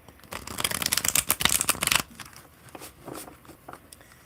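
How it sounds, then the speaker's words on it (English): A Tattoo Tarot card deck being riffled and shuffled, a crisp burst of papery flutters and snaps for about two seconds, then softer scattered card handling and slides, close and alone. "There is something super satisfying about the sound of a good shuffle."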